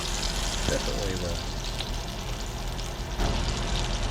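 Bacon frying in a pan gives a steady broadband sizzle with faint bubbling crackle throughout, under low background noise with no clear talk.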